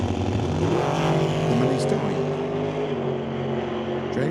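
A dragster roars down the drag strip in a loud sustained engine drone with a shifting pitch, heard from a distance under a track announcer's voice.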